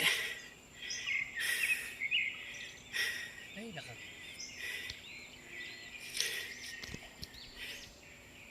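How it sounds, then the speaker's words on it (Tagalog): Quiet forest ambience on the stairway trail down to Taal Lake, Philippines, with intermittent high bird chirps and a thin, steady insect buzz, plus a few faint rustles and footsteps nearby. "tanging mga kulisap lamang at huni ng mga ibon ang inyong maririnig"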